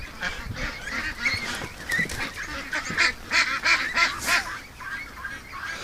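A flock of ducks near a feeder honks and quacks repeatedly in close, overlapping bursts, loud and busy throughout.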